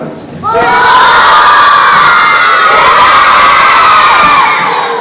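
A crowd of schoolchildren yells loudly at a school assembly, one sustained roar of shouting and cheering that starts abruptly, stays loud and close for several seconds, then cuts off.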